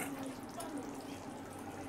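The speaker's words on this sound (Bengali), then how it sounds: "বন্ধুরা দেখুন, এখানে মাছের ঝোলটা ফুটছে।" Bengali fish curry simmers in a pot with fried fish pieces added, giving a faint, steady bubbling and gentle hiss that runs evenly throughout without any talk.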